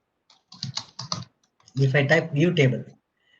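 A few quick clusters of computer keyboard keystrokes click close by, and then a person starts talking in a quiet room.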